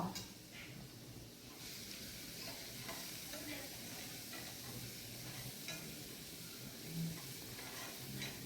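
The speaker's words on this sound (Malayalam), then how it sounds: "ഇഞ്ചിയുടെയൊക്കെ പച്ചമണം മാറുന്ന വരെ നമുക്കൊന്ന് വഴറ്റി കൊടുക്കാം" Crushed ginger, garlic and green chilli frying in oil for mutton curry, a soft continuous sizzle with occasional spatula scrapes and stirring, quiet and close throughout.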